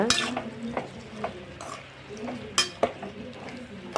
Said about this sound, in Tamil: தண்ணி சேர்த்து இதை நல்லா மிக்ஸ் பண்ணி விட்டுக்கோங்க